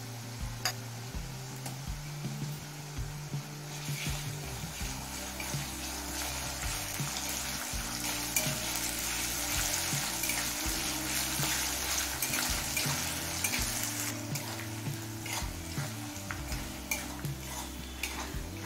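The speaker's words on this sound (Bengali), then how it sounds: "আদা রসুন দিয়ে লো ফ্লেমে 4 মিনিট কষিয়ে নিলাম" Ginger garlic paste with garlic fries slowly over a low flame, a steady soft sizzle with repeated scraping and tapping of a spoon stirring in the pan.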